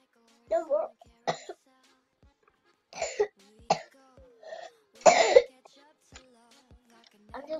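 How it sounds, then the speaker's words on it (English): A person coughs several times, close to the microphone, in short separate bursts with brief pauses between them; a throat clear may be mixed in. "I'm just coughing."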